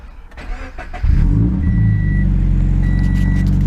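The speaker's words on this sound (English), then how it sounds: "let's get a cold start" A Subaru BRZ sports car engine starts up nearby: a brief cranking whir, then it catches into a loud, steady idle with a rumbling exhaust, and a faint electronic beep chimes twice over it.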